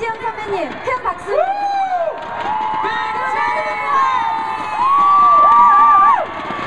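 Concert audience at a Korean music festival cheering and shouting for a singer, a sustained loud crowd roar that swells toward the end, with an amplified voice calling out over it.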